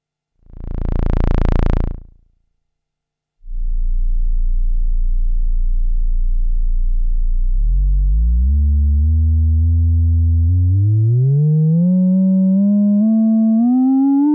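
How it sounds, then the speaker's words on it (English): A Buchla Easel Command 208C oscillator sounds alone: a brief swelling tone, a pause, then a steady low sine hum that later rises in pitch in steps and glides upward with added harmonics, loud and clean. "Let's listen to the oscillator."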